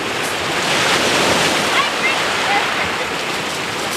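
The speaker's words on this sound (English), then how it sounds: "With the waves splashing up over the edge of Lake Superior" Waves surge and splash over wet rocks along the Lake Superior shoreline, a steady, loud wash of surf with wind rumble and no clear breaks.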